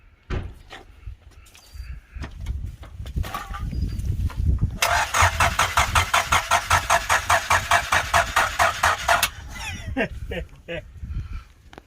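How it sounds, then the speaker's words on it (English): A turbocharged Honda Del Sol engine cranks with a fast, rhythmic whirring starter chatter for several seconds, preceded and followed by clunks and low rumbling, with people talking nearby. "We cranked the car to make sure just so we can see it."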